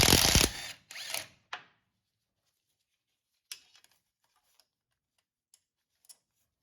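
Wrench ratcheting as the front driveshaft flange nuts come off a Toyota Tundra: a loud burst of clicking at the start, then sparse faint metallic ticks and clinks spread out after a quiet gap.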